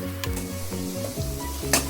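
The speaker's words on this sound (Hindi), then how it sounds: "ये तेल गर्म हो चुका है और अब मैं इसमें अनियन को डाल दूंगा और अच्छे से फ्राई करूंगा।" Onions hiss and crackle in hot oil in a pan for chicken korma. A continuous close sizzle is cut by a steady rhythmic mechanical hum and a brief scrape near the end. No voices.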